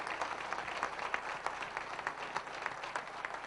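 Audience at a concert applauding, a steady wash of many hands clapping at moderate distance, fairly quiet and unbroken throughout.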